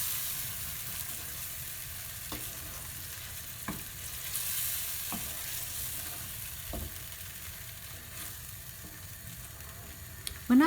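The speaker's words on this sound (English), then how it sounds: "When I've given the pan a really good stir" Baked bean curry with a spicy base being stirred in a pan, a steady soft sizzle and scrape running throughout with a few brief knocks of the spoon, no talking.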